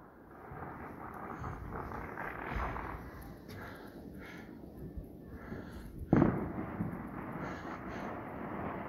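New Year's Eve celebrations outdoors, with fireworks and distant gunshots popping and crackling far away under a steady rumble of wind noise, and one sharper, closer bang standing out partway through.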